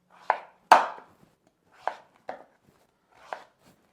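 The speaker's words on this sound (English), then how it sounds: "we're going to start to slice them into half rounds" A knife slices butternut squash into half rounds on a cutting board. A few distinct, close chopping thuds are spaced irregularly with quiet gaps between them.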